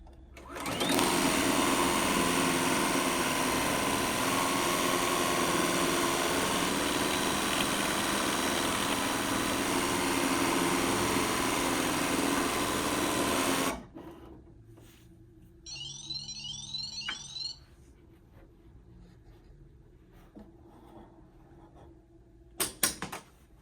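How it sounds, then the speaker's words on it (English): An embroidery machine stitching a hat runs with a loud, steady whirring hum for about fourteen seconds, then stops. Quieter beeps and mechanical clicks from the machine follow. "I'm gonna back up the machine about 20 stitches so there's no gaps"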